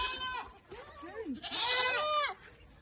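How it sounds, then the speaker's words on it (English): Baby goats on a farm bleat close by, a short cry followed by a longer wavering one, with a softer call between them. "Here goes some more of the baby goats."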